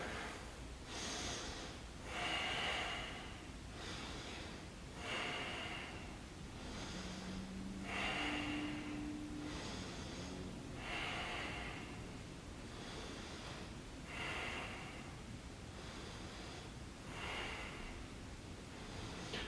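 Deep breathing during a yoga calisthenics workout, slow regular inhales and exhales repeating about every three seconds, close and fairly soft, with no talking.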